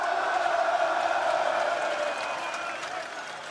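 Football fans at the Frankfurt Römer reception in 2018 cheer and shout in a dense, roaring crowd, a steady wall of voices with some whoops that eases slightly toward the end.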